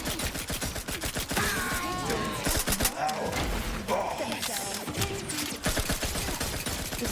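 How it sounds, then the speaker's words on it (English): Player's weapon firing in The Outer Worlds 2, a sustained stream of rapid sharp shots forming dense, loud automatic-fire bursts with scattered impacts, close and continuous, with faint speech underneath. "Well, I'm shooting in at that."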